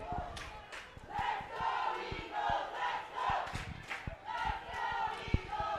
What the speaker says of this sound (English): Layton Christian crowd is now getting into this one, trying to drive their team forward